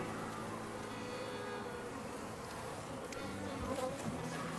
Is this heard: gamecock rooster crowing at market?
no